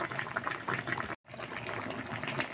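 Fish soup with tuna and squash bubbles and simmers steadily in a pot, a close, continuous gurgling broken by a brief dropout partway through.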